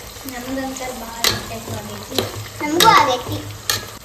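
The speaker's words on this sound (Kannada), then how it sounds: "ಎಲ್ಲ ವೆಜಿಟೇಬಲ್ಸ್ ಹಾಕಿ ನೋಡ್ರಿ ಮಿಕ್ಸ್ ಮಾಡೋದಷ್ಟೇ ಪಟ ಪಟ ಮಿಕ್ಸ್ ಮಾಡ್ರಿ" Mixed vegetables being stir-fried for vegetable pulao, a close sizzle with quick scraping stirs and spoon knocks against the pan, brief voices faintly in the background.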